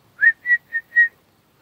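A teething young dog gives four short, high, whine-like yips in quick succession, clear and close, with a windy outdoor setting otherwise quiet.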